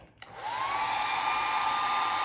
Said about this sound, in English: I'm going to start the dryer again.